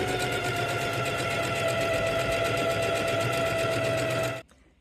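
A sewing machine runs a zigzag stitch along the edge of a fabric market tote, a fast, even mechanical whirr heard close up and alone for about four seconds before it stops.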